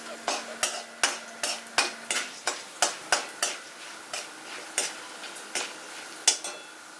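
Raw chana dal stirred in a pan for tindora coconut curry, a series of sharp, regular scraping clicks from a utensil against the pan over a faint sizzle, fairly quiet.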